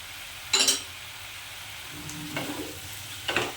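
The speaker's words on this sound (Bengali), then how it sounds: "এবারে আমি একসঙ্গে সবটা কষতে থাকব" Boiled taro stolons and prawns are stir-fried together in a pan. Three short scraping, sizzling bursts of stirring arrive at uneven intervals over a faint steady background, close and fairly quiet, with no talk.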